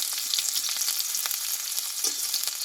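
Chopped onion and slit green chillies frying in hot oil for a Bengali kolmi shak dish, a steady close crackling sizzle with faint scattered stirring clicks, no voices.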